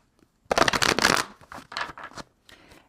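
A deck of cards is shuffled for a weekend astrology card reading: a loud, close burst of riffling, then shorter shuffles and a faint final flutter, with no voice.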